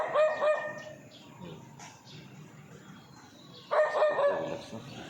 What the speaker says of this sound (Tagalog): Yung aso sa harapan.